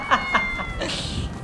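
A cat meows in the video game GTA 5: two short, clear meows close together, then a longer, rougher cry, all near and moderately loud with no talking.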